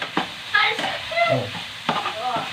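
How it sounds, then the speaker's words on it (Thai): Food stir-fried dry in a pan, with intermittent sizzling and the scrape of a utensil as it is tossed, close and moderately loud; no talking. "คั่วให้แห้งหน่อย"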